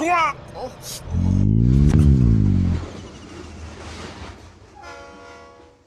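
A train rolls past close beside a railway track, its loud, steady horn blaring for about two seconds over the rumble of the wagons before fading. A brief voice is heard at the start.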